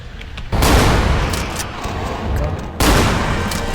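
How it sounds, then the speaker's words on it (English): Shotgun blasts in the video game Vampire: The Masquerade - Bloodlines, two loud heavy booms a couple of seconds apart, each trailing off in a long rumbling decay. "Freaking shotguns."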